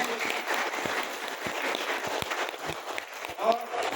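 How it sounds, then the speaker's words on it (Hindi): Clapping from a crowd at a motivational speech, a steady wash of many hands that holds the same level for the whole stretch and fills the room. "तो एक बार जोरदार ताली हो जाए।"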